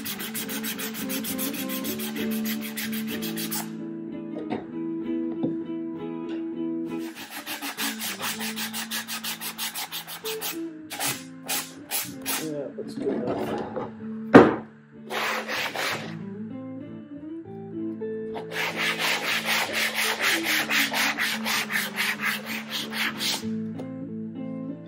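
Sandpaper rubbed by hand across a wooden shelf piece in a workshop, in long bursts of steady back-and-forth strokes with brief pauses between, close and fairly loud, no voices.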